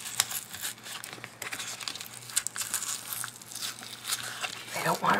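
Glued paper being torn and peeled off a handmade Christmas book, with close crinkling and short ripping sounds in bursts while a person talks throughout.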